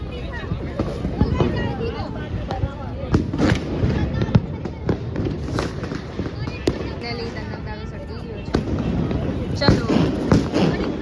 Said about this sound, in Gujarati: હવે ધ્રુવી મોટા ટનક તારા ફોડવાની છે